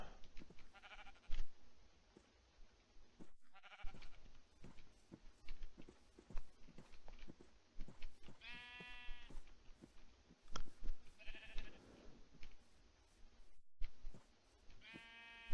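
Sheep in the TerraFirmaCraft video game give several separate wavering bleats spaced over the stretch, over soft footstep clicks and game ambience, with no talking.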